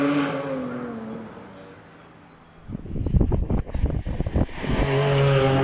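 A Porsche 911 with a 4-litre engine accelerates hard on the Prescott hillclimb course. It starts as a distant tone, then swells into a loud, rough, pulsing roar close by that keeps rising to the end.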